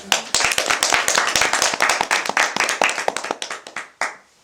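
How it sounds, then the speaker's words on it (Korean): Several people clap their hands together in a brisk burst of applause at a Buddhist doctrine class, sharp overlapping claps that thin out and stop after a few seconds. "모두 박수 한번 주시죠"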